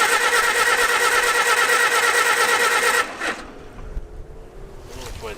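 An old abandoned tractor engine with an updraft carburettor, just back from an ignition repair, cranks and catches with a loud, steady churning run for about three seconds, then cuts out and is followed by quieter, uneven rumbling.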